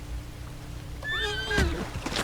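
A horse in a video game lets out a single rising then falling whinny, close and clear, over a low steady background rumble.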